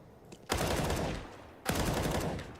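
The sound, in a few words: wallbang gunshots in CS:GO (video game)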